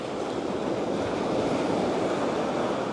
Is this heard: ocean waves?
yes